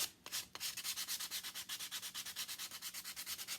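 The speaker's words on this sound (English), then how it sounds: "I'm just going to try a little sandpaper and see if we like that better." Sandpaper rubs back and forth on a carved wooden carrot in quick, even strokes, about six per second, each a soft close rasp with no talking.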